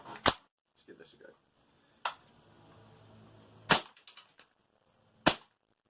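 ASG MP9 airsoft gun fitted with a Spitfire tracer unit fires four sharp, separate shots spaced over several seconds, loud and close, with light handling clicks between them.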